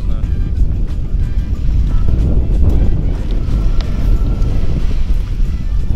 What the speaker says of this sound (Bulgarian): Има вятър, не знам ли да знае.